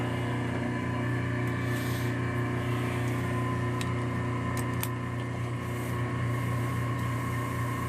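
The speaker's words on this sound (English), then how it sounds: "I'm going to turn on the air compressor." An air compressor feeding an airbrush hums steadily with a constant mechanical drone and a few faint clicks, running continuously with no voices.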